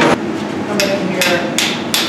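A blacksmith's hammer taps a hot steel bar on an anvil, four sharp ringing strikes at a steady pace, loud and close.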